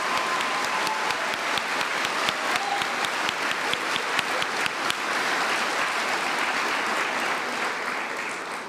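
Students and guests at a high school senior assembly applaud graduates joining the military, a loud crowd of clapping with a few sharp individual claps standing out early, holding steady before tapering off near the end.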